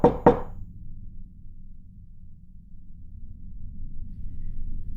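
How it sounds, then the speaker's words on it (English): Two sharp knocks on a door come close together at the start, fairly soft, then fade into a quiet low hum of a still midnight room. "Three soft knocks on the door."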